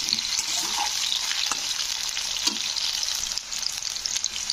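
Three potatoes frying in oil until reddish for a Bengali bottle gourd and prawn dish, a dense continuous sizzle, close and loud, with a few faint stirring knocks and no talking.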